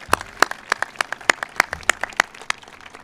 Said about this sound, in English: How about a big round of applause for our faculty and staff?